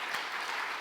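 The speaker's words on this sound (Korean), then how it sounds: "우리 다시 한번 뜨거운 박수 부탁드리겠습니다." Audience applause fills a church during a Sunday afternoon worship service, a dense, steady wash of clapping heard alone for under a second.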